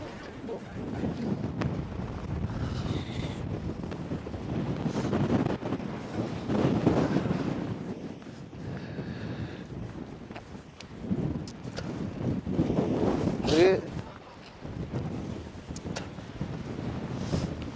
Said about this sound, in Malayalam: ഇത് നമ്മ പ്രതീക്ഷിച്ചും കൂടുതൽ കാറ്റിങ്ങനെ വലിച്ചോണ്ട് പോണ